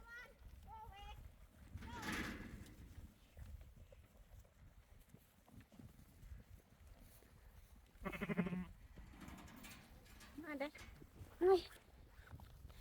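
Sheep being fed outdoors give a few scattered bleats, mostly faint and distant, amid quiet background noise and occasional movement.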